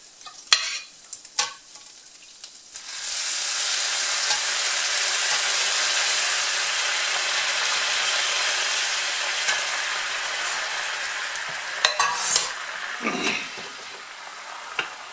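Water poured into a hot pan of Brussels sprouts and lardons bursts into a loud, sustained hiss of steam and sizzle that holds for several seconds, then fades into lighter bubbling and a few utensil knocks.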